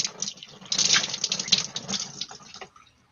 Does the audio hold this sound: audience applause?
no